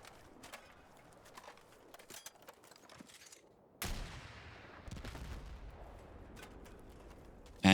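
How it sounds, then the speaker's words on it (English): Anti-tank weapon shots striking a tank in the video game Battlefield 6: scattered gunfire crackle gives way to one sharp, loud blast near the middle, followed by a sustained rumbling roar and a second burst near the end. "we need 3 shots here to down a tank"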